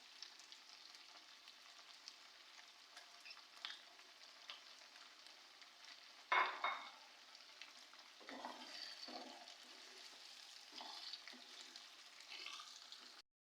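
Tomato and onion gravy hitting frying chicken, a soft continuous sizzle that bursts into a sharp hiss and splutter midway, then settles into quieter bubbling with a few stirring sounds.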